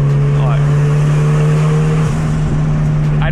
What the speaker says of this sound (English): for it just being an open downpipe, it sounds so damn good